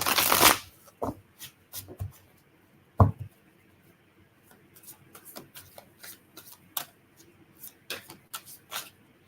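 Tarot cards are shuffled and riffled up close, opening with a loud burst of card flutter followed by softer sporadic taps and slides of the deck in a quiet room.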